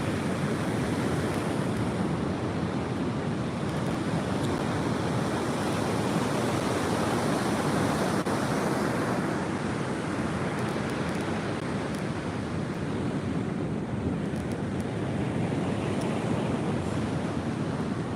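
Ocean waves roll onto the beach at Sawarna, a steady, loud, unbroken roar of surf with wind buffeting the microphone throughout, and no voices.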